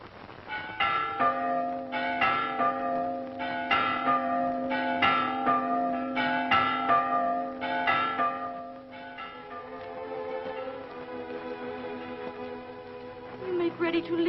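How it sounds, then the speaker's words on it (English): Church bells chime in a quiet valley, a steady run of ringing strikes with long overlapping resonance, then fading into a softer, sustained hum of tones. "Ah, the bells."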